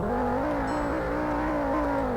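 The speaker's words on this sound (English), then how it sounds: "Volkswagen Jetta with an inline 5, and it's got Audi RS wheels and an Audi engine" A Volkswagen Jetta with an Audi inline-five engine idles and revs in the Roblox game Greenville, a loud, steady, close engine drone that rises slightly and holds throughout.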